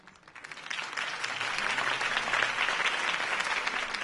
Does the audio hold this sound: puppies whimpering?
no